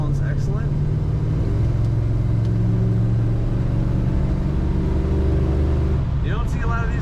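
A 1968 Dodge Charger two-door hardtop V8 idles with a deep, steady low rumble and a slightly uneven lope, heard up close, with brief speech near the start and end.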